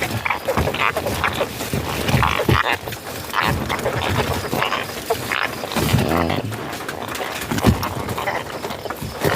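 A dense chorus of frogs croaking continuously, rough and overlapping, loud and close, with no clear pauses.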